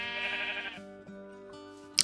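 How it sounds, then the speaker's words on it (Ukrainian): A sheep bleats in Minecraft, one long wavering bleat up close and loud, then lower game sounds carry on behind it, with a brief sharp click at the end. "Тут в мене вівці прям в хаті."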